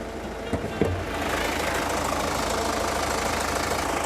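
A Hyundai Tucson ix, a four-wheel-drive used car, idles steadily with its engine bay open, giving a constant mid-low hum and rumble after a couple of soft knocks near the start.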